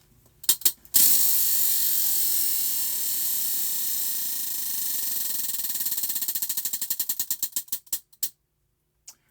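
A prize-style spinning wheel used to pick the next crochet stitch whirs with a dense rapid clicking that gradually slows into distinct, spaced ticks before stopping, loud and close with no talking.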